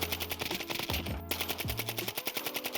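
Automatic weapon fire at a firing range in the video game Warzone, rapid repeated bursts of shots sounding close and loud, with a brief pause before the shooting resumes.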